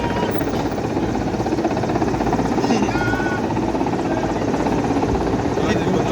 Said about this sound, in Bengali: এই দুটো হেলিকপ্টার